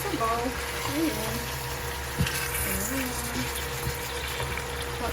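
Water runs steadily from a kitchen tap in a home during a typhoon, a continuous rushing hiss beneath a voice and the clatter of cooking.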